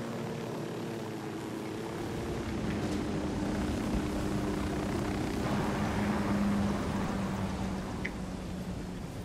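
Helicopter flying toward a mountaintop landing in the video game Ghost Recon Wildlands, a steady loud rotor and engine drone that holds throughout, swelling slightly toward the end.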